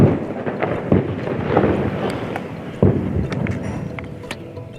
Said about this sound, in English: That's the sound of explosions, as heard from the Lebanese side of the border.